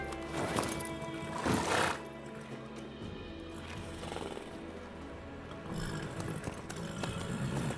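Horse sounds from the video game The Witcher 3: a horse whinnies and snorts over clip-clopping hooves, with game music and ambience underneath and bursts of louder neighing early on.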